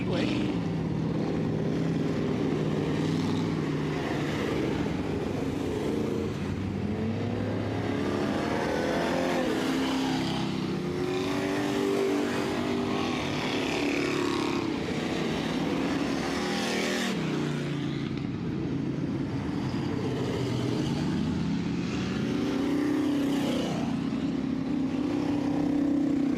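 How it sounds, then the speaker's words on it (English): Dirt track race cars roll onto a Southern Ontario speedway for a Friday night heat race, a steady engine drone with rising and falling revs filling the whole stretch while a voice talks over it. "As heat race number 2 rolls out onto the Speedway."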